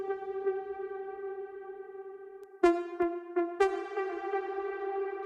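Sustained synth tone drenched in Black Hole reverb, a wide, very long wash that holds steady before a few sharp struck hits burst in and ring out into the spacious tail, moderately quiet and alone.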